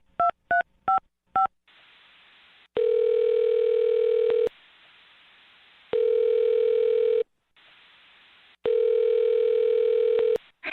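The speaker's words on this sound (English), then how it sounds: "I'm going to dial her phone number right now and see if we can help you out" A landline phone number is keyed in as a quick run of four touch-tone beeps, followed by long steady ringback tones repeating with pauses, loud and close, with no talking.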